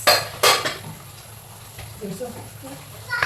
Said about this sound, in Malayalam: കുക്കറിൻ്റെ മൂടിയൊക്കെ എടുത്തിട്ടാണ് മിക്കൂസ് ഇവിടെ കളിക്കുന്നത്